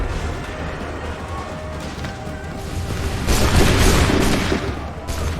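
A volley from soldiers' muskets in the video game Assassin's Creed III breaks out as a rolling crackle of many overlapping shots that swells loudly over battlefield din, then tapers off.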